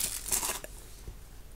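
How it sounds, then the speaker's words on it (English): A plastic bag holding a Morph Ball stress reliever from an Arcade Block box gives a quick crinkling tear lasting about half a second, then near silence. "It's in a plastic bag."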